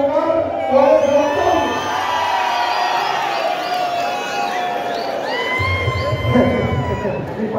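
A rodeo dance crowd in Aldama, Chalcatongo cheers, whoops and applauds loudly to vote for a rider, with a steady roar of many voices and an amplified announcer speaking over it.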